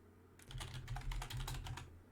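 Fingers tap keys on a computer keyboard in a quick, short burst of soft clicks, close and fairly quiet over a low background hum, with no one talking.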